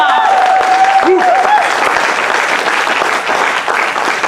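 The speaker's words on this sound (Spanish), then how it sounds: "¡Dale un aplauso al Señor!" Loud, sustained congregation applause in a church service, thick continuous clapping with shouts and voices rising over it.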